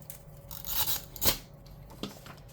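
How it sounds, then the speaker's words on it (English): A tape runner dispensing adhesive tape onto paper planner pages: a short rasping pull around the middle, then a sharp click and a softer follow-up crackle, close and quiet. "Let's see if I have enough left in this tape runner."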